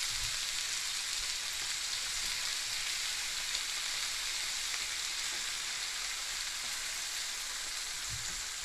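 Yakisoba stir-frying in a home kitchen pan gives a steady, close sizzle that holds even throughout, with a few light stirring knocks and no talk.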